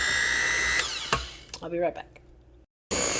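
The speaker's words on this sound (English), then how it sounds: "I got my Betty Crocker mixer. I'm going to mix on low" A Betty Crocker electric mixer running on low in cake batter, a steady motor whir that wavers and cuts off briefly before starting again, with someone talking over it.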